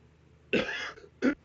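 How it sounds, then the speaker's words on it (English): Two coughs, a longer harsh one followed by a short sharp one after a brief pause, close and clear against a quiet background. "hence the coughing"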